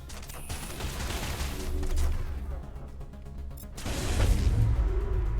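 Sustained gunfire in a Mass Effect battle against a Geth Prime: rapid bursts and heavy booms, some pauses between volleys and a louder, closer barrage near the end.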